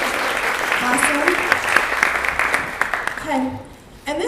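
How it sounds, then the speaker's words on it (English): Clapping from a seated audience at a chamber of commerce luncheon candidate forum, fairly loud and sustained before tapering off, with a voice speaking over the applause. "We're clapping, they're standing."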